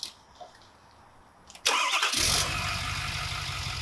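A diesel engine on newly acquired equipment cranks briefly, then catches with a sudden loud roar and settles into a steady, rumbling idle, close and strong, with no talking.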